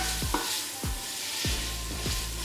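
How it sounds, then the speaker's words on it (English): Marinated paneer sizzles in hot oil with a steady hiss, broken by a few regular scraping stirs from a spoon or spatula. "So just let it keep sizzling away."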